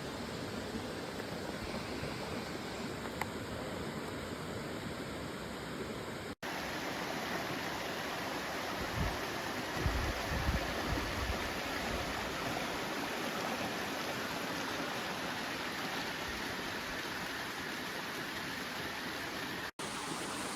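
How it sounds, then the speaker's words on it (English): Clear creek water flowing steadily at dawn, a continuous broadband rush that stays even and close throughout with no voices. "There's a creek here."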